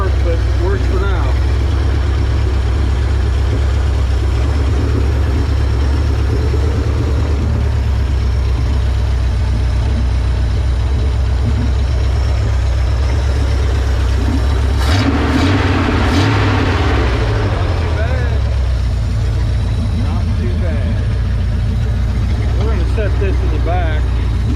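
A 1970 Ford F250 truck engine running loud and close with a heavy low rumble, idling steadily and then revving up briefly midway before settling back down.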